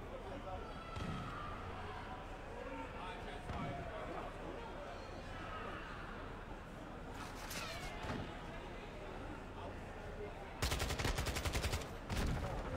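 Rapid bursts of automatic gunfire and sharp shots crackle in a Call of Duty: Modern Warfare II match, loudest in a dense volley near the end, mixed with game noise while players talk over it.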